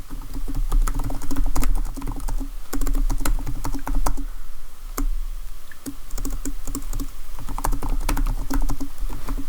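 Steady typing on a computer keyboard, a fast continuous patter of key clicks with brief pauses, close and clear over a low electrical hum.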